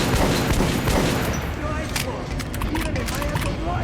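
Gunfire in the video game Metro Last Light, aimed at a target dummy: dense, loud bursts of shots over a rumbling game soundtrack, with voices from the game mixed in.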